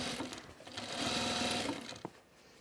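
Sewing machine running steadily while stitching a bag seam, a continuous close whir that pauses briefly near the end with a small clunk.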